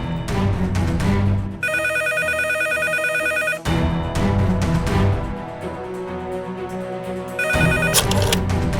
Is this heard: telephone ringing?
yes